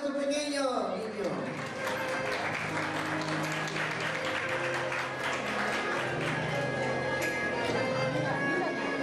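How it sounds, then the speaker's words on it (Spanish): A school graduation crowd applauds for a small child, steady dense clapping filling a large space, with a voice and crowd chatter mixed in beneath the sustained clapping. "Un aplauso para nuestro pequeño niño."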